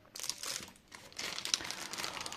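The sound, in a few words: plastic zip bag crinkling as it is opened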